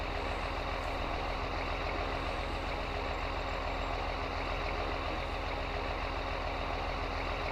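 A tractor engine in Farming Simulator 19 runs at a steady, dense drone, loud and constant throughout, with no talk over it.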